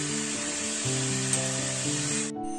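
Ridge gourd pieces fry lightly in oil in a pan with a close, steady sizzle over a musical background, and the sizzle cuts off abruptly near the end.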